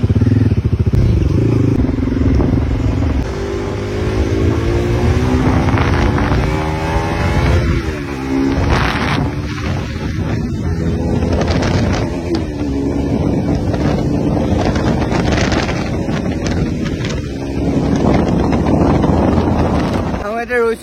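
A motorcycle ridden at speed on the road to a petrol pump: a loud, steady engine drone with rising and falling pitch, mixed with heavy wind buffeting on the microphone for the whole stretch.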